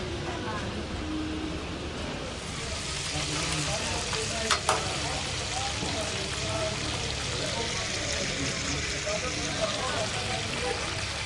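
Meat frying in a karahi in a village kitchen, a continuous dense sizzle with stirring scrapes, and voices talking faintly over the cooking.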